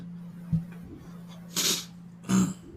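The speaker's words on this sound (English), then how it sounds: "I'm fighting off a sneeze for the last several minutes." A person sneezes suddenly, a sharp loud burst, then a second sneeze follows about half a second later, with a steady low hum in the background between them.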